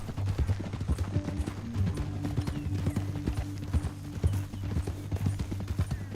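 Horse hooves clip-clop in a steady rhythm, close and fairly loud, with a low rumbling bed beneath, in the Western video game Red Dead Redemption 2.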